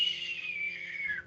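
A voice imitates the prolonged, whistling wheeze of an asthmatic patient breathing out, one thin, steady high hiss lasting just over a second, quiet and alone.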